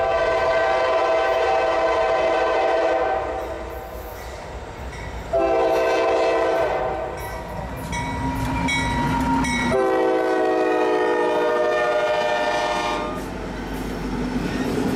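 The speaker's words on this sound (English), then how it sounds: "As you can see, we got a train coming." Freight train passing a lowered-gate railroad crossing, sounding long loud multi-tone horn blasts in several bursts over the rumble and clatter of rolling cars, close by and dominant throughout.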